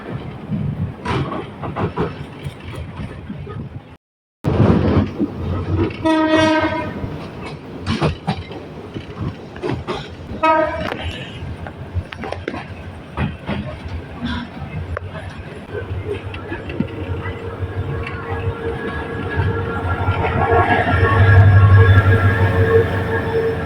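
A campus train in Chittagong rumbles past nearby, its wheels giving a rhythmic clickety-clack and later a sustained rising roar, with people talking over the passing train.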